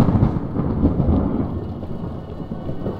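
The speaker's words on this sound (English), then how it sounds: "The effect of the lightning is really cool." Rumbling thunder with steady rain fills the scene in the video game Downfall: Redux, a continuous low roll of storm noise, loud and close, with no voices.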